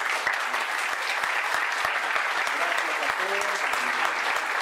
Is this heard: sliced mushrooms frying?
no